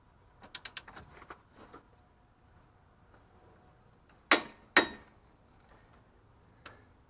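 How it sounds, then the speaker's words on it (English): A front hub nut with a washer behind it is torqued to 175 foot-pounds on a second-generation Ram 4x4, giving a quick run of light ratcheting ticks, then two sharp, loud clicks close together and one faint click afterwards. "get this with the washer behind it torqued down to 175 foot-pounds"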